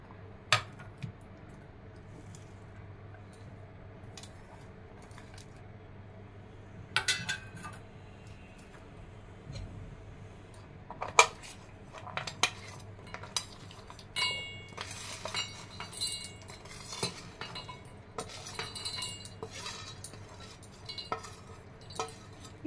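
Cashew, coriander, garlic, chaat masala and a small piece of ginger go into a blender jar for chutney, making scattered light clinks and taps against the jar at irregular intervals over a quiet room background.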